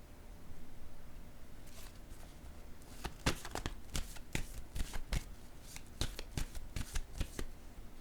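Tarot cards being shuffled by hand, a run of quick soft riffling snaps over a faint steady hiss, close and quiet, with no talking.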